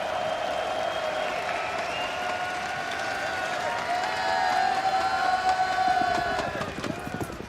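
A large arena crowd roars and applauds steadily through a break at a Counter-Strike: Global Offensive esports grand final, the noise swelling louder near the end, with flags waving among the fans.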